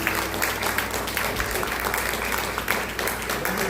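A church congregation applauds in a sustained wash of dense clapping that fills the room steadily at a fairly loud level, with faint voices mixed in.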